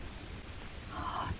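Rainy-season rain in the Green Hell jungle survival game falls as a soft, steady hiss with a faint low rumble, quiet and continuous without talk.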